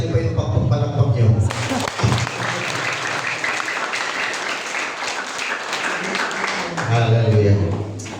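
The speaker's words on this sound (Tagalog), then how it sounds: "O kaya lakasan niyo pa yung palakpak niyo." A church congregation applauds loudly for several seconds, a dense, even clatter of many hands, while a pastor speaks over the start and end of it.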